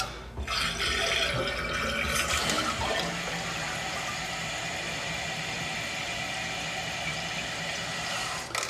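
Water rushes steadily into a toilet tank as it refills, a broad continuous hiss and gurgle that holds at a constant, fairly loud level for the full span with no voices.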